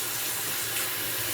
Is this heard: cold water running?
yes